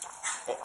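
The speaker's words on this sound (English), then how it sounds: "That's my dog." A sick dog gives a brief, high whimper close by, with a soft yip-like rise near the end.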